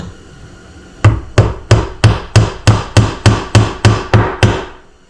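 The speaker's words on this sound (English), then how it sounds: "Peck in a couple brown fascia nails." Eleven evenly spaced hammer blows drive brown fascia nails into a wooden skull mount board, each a sharp close knock with a short ring, steady and loud with no talking.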